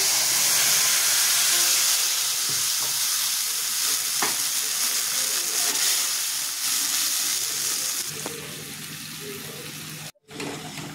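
Ginger-chili paste and ground cumin, coriander and chili mixed with water frying in a pan for chana dal, a loud continuous sizzle and hiss with light stirring scrapes, briefly cutting out near the end.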